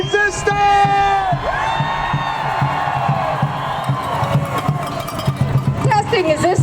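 Crowd at a Hands Off rally in Albuquerque cheering and whooping loudly and continuously, with shouts and a voice talking over the noise.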